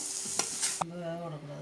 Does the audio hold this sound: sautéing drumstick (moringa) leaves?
yes